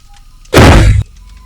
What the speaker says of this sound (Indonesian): suara ledakan yang sangat keras mengguncang keheningan